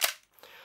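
A single sharp snap from a Tokyo Marui MP7 airsoft gun firing one shot, close and loud, followed by a short mechanical rattle of the bolt cycling.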